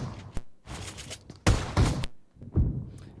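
Several bursts of PUBG Mobile gunfire ring out in quick succession, sharp and loud with short gaps between volleys, during a game broadcast.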